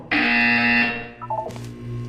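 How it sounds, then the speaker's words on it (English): A Portal 2 video game buzzer sounds one loud, sustained electronic tone that cuts off after about a second, followed by a few softer chiming blips and a brief hiss. "When you hear the buzzer, look down at the floor."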